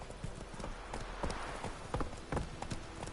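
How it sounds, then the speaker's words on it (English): Horse hooves clip-clop at a walking pace in The Witcher 3, a steady series of soft, fairly distant hoofbeats over a low background with no talk. "Whoa there, Roach."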